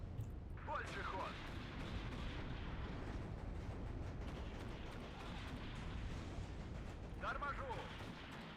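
Heavy tanks trade cannon and gunfire in a ranked online tank battle, a dense, continuous roar of shots and explosions with louder bursts standing out, while voices speak through the battle.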